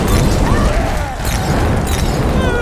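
Grenade explosion in the video game Killing Floor 2, a loud continuous roaring blast with rumbling low end and scattered crackling debris, filling the whole moment up close with no clear break.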